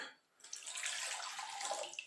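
Water pours into a container to make a pickling brine for jalapenos and habaneros with ginger, a steady close splashing gush that starts after a brief quiet moment and continues evenly; no talking.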